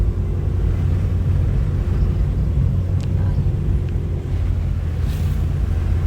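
Loud, steady wind buffeting the microphone with a constant low roar on the road to Dalaguete, Cebu, Philippines, continuous throughout, no speech.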